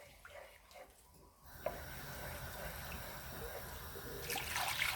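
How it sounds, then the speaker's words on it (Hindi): Water pours into a pressure cooker holding moong dal for halwa, a steady splashing rush that builds and grows louder toward the end. "इसमें पानी हम इतना डालेंगे कि ये नीचे लगे ना।"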